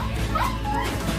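A dog whimpers and yips in thin, high whining cries over a steady low rumble of background noise, close and brief.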